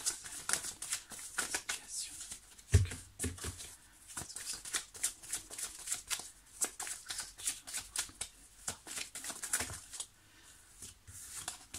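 Tarot cards are shuffled and drawn in a series of quick, soft, papery flicks and riffles at close range, with a brief thud near the start and no talking.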